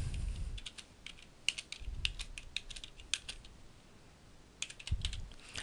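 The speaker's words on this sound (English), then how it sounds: "I can type that in my search bar, click go." Rapid clicking of computer keyboard keys while someone types a legal case citation into a search bar, in irregular bursts with short pauses, close and fairly quiet, no talking.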